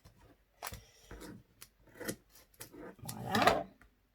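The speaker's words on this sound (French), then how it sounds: "On va couper le papier avant." Scissors snip through paper for a Christmas scrapbook album: a handful of separate quiet cuts and rustles, the last one louder and longer.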